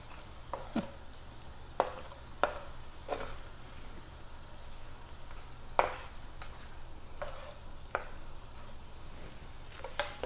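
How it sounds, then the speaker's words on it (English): Spoon scrapes and taps against a bowl while a zucchini pizza casserole mixture is stirred together, soft irregular clicks and squishy scrapes spaced a second or so apart at close range. "And just combine by stirring together until it's all"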